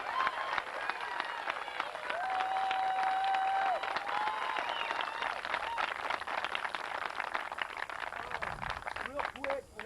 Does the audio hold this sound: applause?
yes